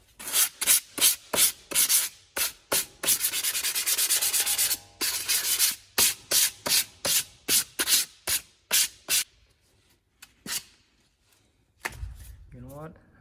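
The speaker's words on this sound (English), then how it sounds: "So I'm gonna use some sandpaper to slightly sand the surface." Sandpaper on a sanding block rubs across a brake caliper for a Mazda RX-7 FD in a run of quick, rhythmic close strokes, with a longer continuous scrub in the middle, then a few lighter passes that trail off into quiet.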